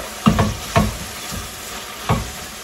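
Vegetables sizzle in a pan for Puerto Rican mofongo, with a few scraping stirs of a utensil at uneven intervals over a steady close frying hiss.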